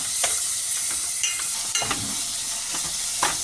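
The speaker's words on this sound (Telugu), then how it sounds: "ఇలా బాగా వేగాక మ్యాగ్నేట్ చేసిన చికెన్ ఇందులో వేసి వేపుతాము ఇందులో" Marinated chicken frying in hot oil for gongura chicken curry makes a steady, loud sizzle, with occasional scrapes of a stirring spoon against the pan.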